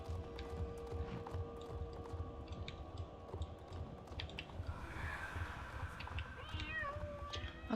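A cat meows several times in the game Star Stable Online, faint and high over a steady murmur of background noise with soft hoofbeats from a horse.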